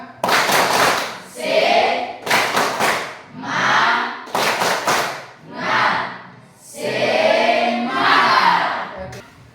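A school class does a rhythmic spirit clap, bursts of sharp group clapping alternating with chanted group voices in a repeating pattern, loud and close in a classroom.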